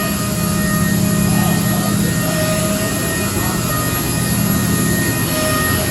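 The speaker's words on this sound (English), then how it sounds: "we're machining some motorcycle triple clamps right now" A CNC machine cuts metal motorcycle triple clamps with a loud, constant whirring drone and a steady high-pitched whine, with no breaks or talking.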